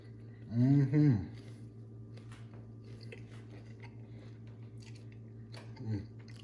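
Quiet chewing and biting on caramel popcorn with bacon, soft crunches close to the mic over a low steady hum, with a pleased hummed voice between mouthfuls.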